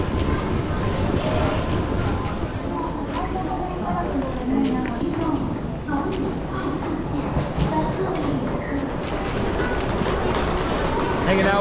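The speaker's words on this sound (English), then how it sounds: "we're taking the Shinkansen bullet train" Steady low rumble and rattle inside a Shinkansen bullet train at speed, continuous throughout with faint murmured voices in the cabin.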